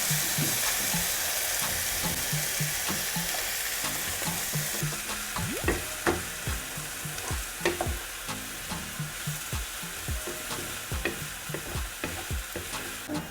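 Onions and carrots frying in leftover oil, a continuous sizzle with rhythmic stirring strokes and scraping growing more pronounced in the second half.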